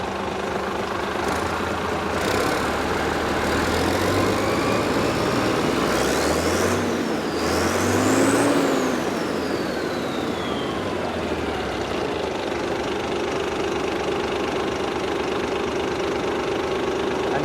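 A truck engine being revved during an EGR valve test, with a steady loud running drone that rises in pitch twice around the middle before settling back, heard close and alone.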